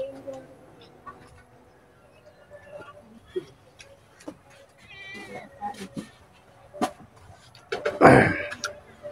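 A pet cat meows in a home kitchen, several short cries scattered across quiet room noise, followed by a louder close rustle near the end.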